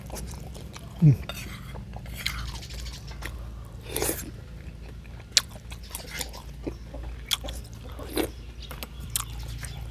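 Close chewing and crunching of spicy beef offal soup eaten with fresh raw vegetables, with scattered clinks of spoon against bowl and occasional sharp bites over a steady low room hum.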